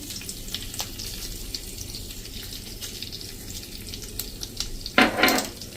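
Asafoetida, curry leaves and sesame seeds crackle and sizzle in hot oil for a Gujarati muthiya tempering, a steady close frying hiss with scattered pops and a sharper burst of spluttering near the end.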